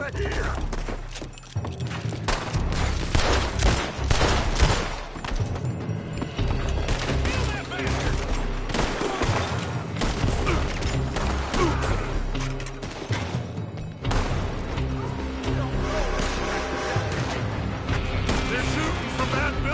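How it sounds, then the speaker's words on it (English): Dense gunfire from a building during a Red Dead Redemption 2 shootout, with loud overlapping shots, booms and thuds running without a break while people shout over the din. "They're shooting from that building."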